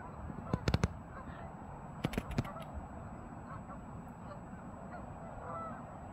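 Wild geese gathered by the hundreds on a river, honking in two short bursts of several loud calls, first near the start and again about two seconds in, over a faint steady outdoor background.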